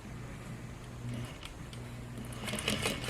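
A sewing machine restitches a short section of a seam while taking in a pair of pants at the waist, giving bursts of rapid mechanical ticking that rise and fall over a few seconds, close and moderately quiet.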